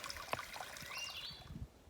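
Water trickles faintly near a trail shelter on the Appalachian Trail in New Jersey or New York, a soft steady dribble with a bird chirping in the background.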